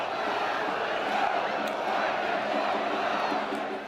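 Coritiba football fans in a stadium jeer Neymar, a dense, sustained roar of crowd voices that stays loud and steady throughout.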